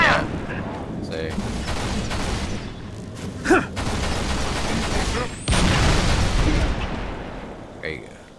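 Sustained heavy gunfire and explosions from a Halo: Reach battle against Covenant elites on Legendary, loud and continuous with a few sharper blasts.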